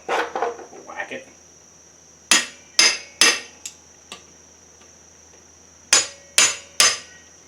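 Hammer striking a metal part during a 1974 Suzuki TC 125 rebuild: a few light knocks, then sharp ringing blows in two bursts of three, each ringing briefly before fading, close and loud in a quiet room.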